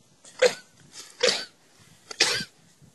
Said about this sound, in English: Bit of a sneezing attack or something.